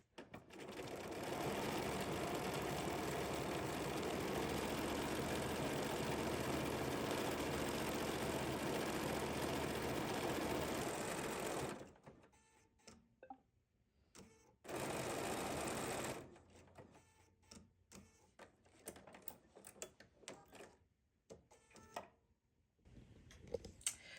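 A computerized sewing machine sews a decorative pretzel stitch, number 1390, with a steady close whirring run of about ten seconds, then short stop-start bursts and clicks, and a second brief run.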